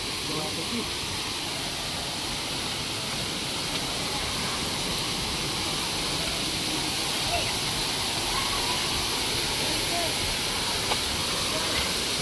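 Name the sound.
Vayngani waterfall in forest, Vengurla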